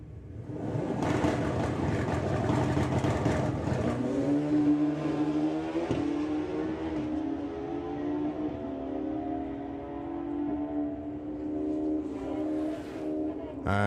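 Drag racing motorbikes throttle up at Santa Pod Raceway, a loud sustained engine roar with rising and falling revving tones, busy and raw at first, then settling into a steadier drone, with a commentator's voice faintly underneath.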